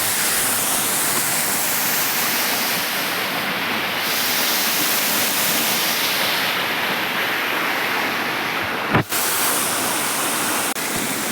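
Waterfall near a cave temple roars as dense, steady rushing water filling the space, close and loud, with one brief knock near the end.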